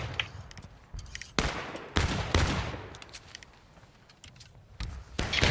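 Ragged musket volleys crack out in the War of Rights game, several sharp overlapping bursts spread across the field, some near and loud, others more distant, separated by short pauses.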